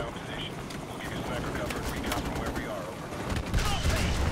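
Gunfire in Call of Duty: Modern Warfare Remastered, a dense rattle of shots and bursts over a constant rumbling battlefield bed, louder toward the end.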